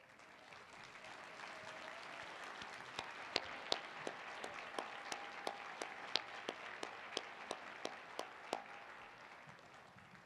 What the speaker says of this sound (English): please stand and let's give them a round of applause